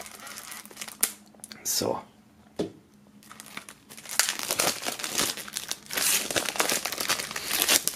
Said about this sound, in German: Aus der Folie befreien.